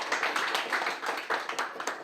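Applause at a formal gathering greeting a newly appointed board member, a steady patter of hand claps from a small indoor audience, moderately quiet and without voices.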